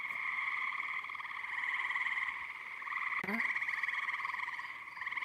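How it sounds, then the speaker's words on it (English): Loud, continuous chorus of frogs croaking at night with a steady pulsing rhythm, with a brief faint sound from a person partway through. "Boy, these frogs are so loud, aren't they?"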